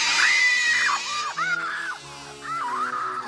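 A woman's high, piercing screams from the film Indiana Jones and the Temple of Doom, three long wailing cries in quick succession over faint background film sound.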